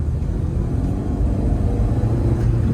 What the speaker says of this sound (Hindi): अभी मैं गाड़ी को थोड़ा रैप करता हूँ